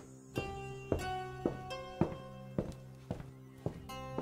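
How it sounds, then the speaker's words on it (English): Footsteps on the upper floor of a house, made as a radio-play sound effect: about eight steady, evenly spaced thudding steps with a hollow, resonant ring, close and alone with no voices. "Why do I keep hearing footsteps when everyone else is still downstairs?"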